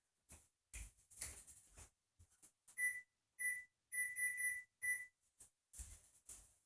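Kitchen timer being set while cooking turkey chili, a few short bright electronic beeps, one slightly longer, spaced among soft button clicks and handling taps, close and clear with no talking.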